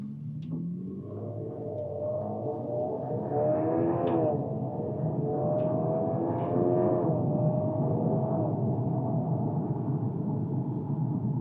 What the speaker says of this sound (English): I'm just going to hit the gas and do what we just did a minute ago, just a little harder